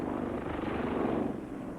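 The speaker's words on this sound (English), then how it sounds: "A high-capacity helicopter with a completely new airframe powered by 2 Rolls-Royce GEM turboshaft engines" The twin Rolls-Royce Gem turboshaft engines of a Westland WG-30 helicopter whine and its rotor thrums steadily, loud and continuous throughout.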